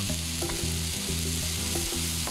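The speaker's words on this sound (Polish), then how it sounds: "Na tym samym tłuszczu podsmażam warzywa i dodaję do nich czosnek oraz chili" Vegetables with garlic and chili sizzle and crackle steadily in a hot pan of fat for a pork stir fry, with a dense constant frying hiss and occasional stirring clinks.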